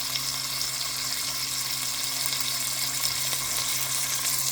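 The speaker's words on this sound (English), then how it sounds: "We're going to fry this pork, salt pork, until it's nice and crispy." Salt pork fatback frying in an iron skillet, a steady, close, crackling sizzle that holds evenly throughout with no voices.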